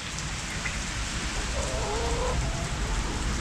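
Rain falls on a duck farm, a steady close patter and hiss on surfaces that continues evenly without voices.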